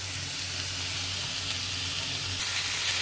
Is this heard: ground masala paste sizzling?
yes